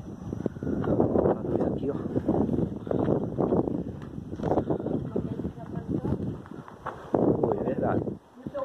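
Sudden wind gusting outdoors near a tree, a steady broadband rush that swells and eases in waves, heard under close conversation between people throughout.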